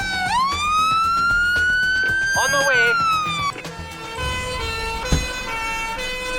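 An old ambulance siren from the Emergency 4 game rises in a steady wail with a short yelp and then fades. Engine and game noise fill the background, and someone talks over it.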